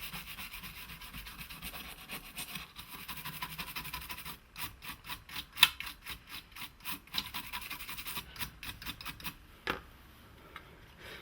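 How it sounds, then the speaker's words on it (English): Brush scrubbing excess flux off a freshly soldered circuit board from an LG 37LC55-ZA television, quiet rapid rubbing strokes in bursts, close and alone. "give it a clean up to remove some of the excess flux on the where I've soldered the components in."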